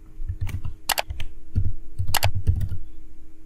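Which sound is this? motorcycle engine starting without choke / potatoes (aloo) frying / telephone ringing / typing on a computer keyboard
typing on a computer keyboard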